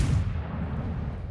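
Ship guns fire in the naval video game World of Warships, a deep rumbling boom that rolls out and fades over about a second.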